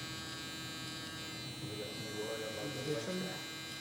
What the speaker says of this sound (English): I'm telling y'all, man, this trimmer's eating.